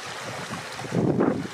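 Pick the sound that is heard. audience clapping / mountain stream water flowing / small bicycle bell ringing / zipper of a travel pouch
mountain stream water flowing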